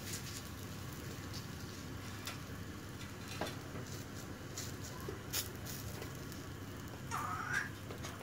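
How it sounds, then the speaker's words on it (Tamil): Spinach chapati cooks on a hot dosa tawa, giving a soft, continuous sizzle with faint patter and occasional light scraping, heard up close and alone. "தோசை தவா காஞ்சிருச்சு, நம்ம போட்டு சுட்டு எடுக்கலாம்."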